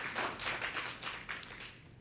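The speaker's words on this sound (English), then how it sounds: "there usually is an applause after that" A business luncheon audience gives faint, scattered applause, a light, uneven patter of clapping that dies away quickly.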